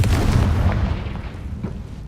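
A Confringo fire spell in Hogwarts Legacy detonates as a loud, booming blast with a rumbling low-end tail, followed by a second, softer burst partway through, with no voices.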